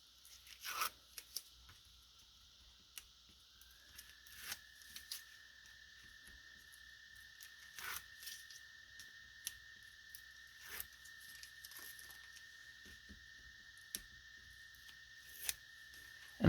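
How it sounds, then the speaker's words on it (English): Adhesive tape being peeled up off pages while building a basic album: sporadic close crackles and sharp tearing snaps spread irregularly over the stretch, over a faint steady hum. "Next thing we're going to do is take our tape up."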